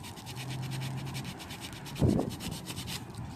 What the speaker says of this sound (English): I'm gonna take my sandpaper